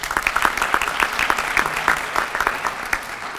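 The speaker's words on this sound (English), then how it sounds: "y'all need to applaud yourself for doing a great job" Audience applause fills a room at an awards ceremony, a steady, dense patter of many hands clapping at once, loud and continuous with no voices breaking through.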